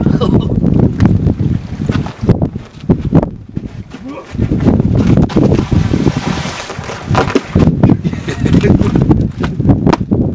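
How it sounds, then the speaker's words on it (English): A strong wind of around 30 miles an hour gusts over open ice, roaring and buffeting the microphone in loud, uneven bursts while someone talks over it. "You know what it's like walking on this with like a 30-mile-an-hour wind on you?"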